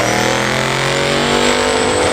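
A Chevrolet C10 truck engine runs hard on the Muletown Dyno at the Power Tour event, giving a loud, sustained, close-up engine roar that holds steady throughout with no talk.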